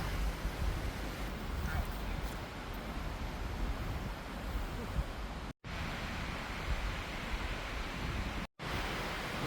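Wind roars steadily through swaying trees at a woodland campsite, a broad rushing noise close to the microphone that continues with only two brief cut-outs.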